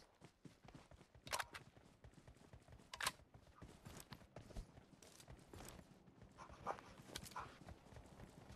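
Quiet hoofbeats of a horse in the video game PUBG Mobile clip-clop in an uneven rhythm with a few louder thuds, set against faint background noise.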